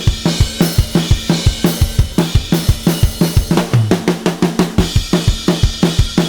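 A full drum kit with parallel compression plays a driving steady beat, with dense punchy kicks and snares, busy cymbals on top, and a quick fill midway, loud and compressed.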